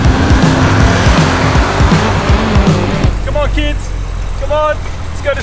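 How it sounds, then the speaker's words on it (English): A 550-horsepower Porsche Cayenne Turbo S engine revving hard with tires squealing in repeated bursts, loud and close, as voices talk over it. "let's take this 550 horsepower SUV for its first drive"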